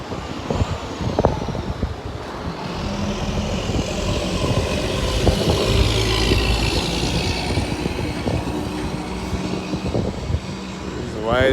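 A white truck rolls past, its engine rumble swelling and fading across the scene while a voice talks over it.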